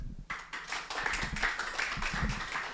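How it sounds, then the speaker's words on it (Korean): An audience at the founding general assembly of the Bukchon urban regeneration residents' council applauds in a meeting hall, steady clapping swelling after a brief quiet start and continuing for a few seconds with no talk. "저를 위한 박수가 아니라 정말 저희 준비위원들을 위해서 정말 큰 박수 부탁드리겠습니다"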